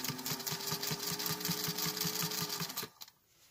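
A sewing machine stitches binding onto a quilted placemat, a fast even run of needle thumps close up for nearly three seconds, then stops abruptly into quiet.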